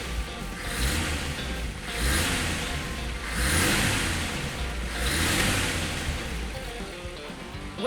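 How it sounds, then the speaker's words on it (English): A tractor engine runs steadily with rising and falling revs, a broad mechanical drone swelling in loudness every couple of seconds, close and loud with no talking. "Listen to the sweet sound of this here engine."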